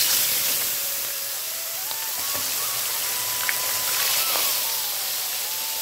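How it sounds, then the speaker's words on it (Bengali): Tilapia fish frying in hot oil in a pan, a continuous dense crackling sizzle heard close up for several seconds, with faint thin tonal noise in the background and no talking. "তেলটা গরম হয়ে গেছে দেখো। এবার আমি মাছগুলো ভেজে নেব।"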